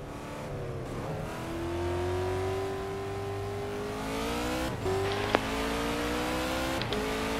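Race car engine in GTR2 at the Paul Ricard circuit in France, revving steadily through flat-out turns, with a rising drone and brief dips at gear shifts, continuous and close.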